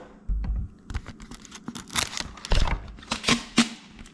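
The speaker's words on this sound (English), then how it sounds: "You're going to cut this wrapper off." Plastic wrapper being cut off a bottle with scissors, producing a series of close, sharp crinkling snips and rustles in uneven bursts, with no talking.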